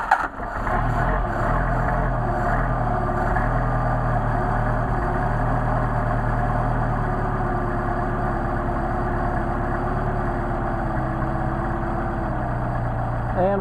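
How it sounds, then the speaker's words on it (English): A Mercedes 190SL engine with Solex carburetors idles on choke, a steady, fairly close low rumble that holds an even rhythm after a brief rev at the start. "you can pull the choke cable in and out as you need to keep the engine running"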